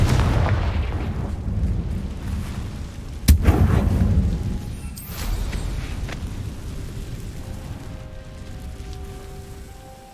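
A Confringo explosion spell goes off in Hogwarts Legacy: one sharp, loud blast partway through, trailing into a rumbling, hissing wash of background game noise.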